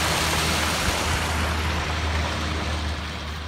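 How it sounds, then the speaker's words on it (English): Clear water runs in a small stream fed from a small lake at Rancho Jurupa Regional Park, making a steady, close, broadband rushing with no voices over it. "Clear running water."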